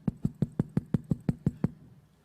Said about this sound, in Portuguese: ele vai e bate na porta.